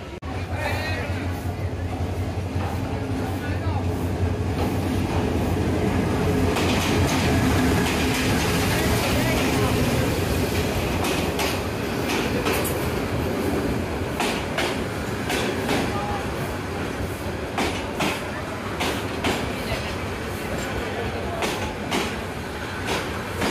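A train stands at Bhairab Junction station in Bangladesh on a hot, sunny day, its steady low rumble continuing throughout. A busy crowd murmurs on the platform, and sharp clanks and knocks rise above the noise.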